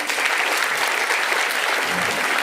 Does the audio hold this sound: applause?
yes